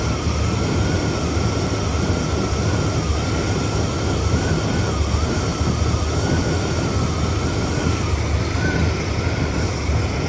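A vehicle engine runs steadily with its choke fully open, a continuous loud droning roar with a faint wavering whine, unbroken for the whole stretch and with no talking.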